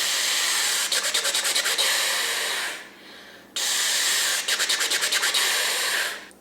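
Air hissing through the teeth in a flute double-tonguing exercise: two long, loud, breathy rushes, each broken by a fast, even run of crisp articulated pulses, with a short quiet gap between them.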